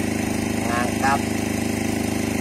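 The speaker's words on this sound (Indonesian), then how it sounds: "Genset Mini" An 8 kVA generator engine, recently rebuilt, runs steadily with a continuous, even throb that stays at one loud level throughout, with a brief faint voice partway through.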